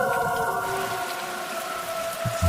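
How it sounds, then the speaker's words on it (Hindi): Steady rain falls with a continuous hiss, carrying a few sustained tonal bands above it, as a horror-story backdrop; no clear thunder crack stands out, just an even, close wash of rainfall. "बारिश के साथ आसमान में बिजली कड़क रही थी।"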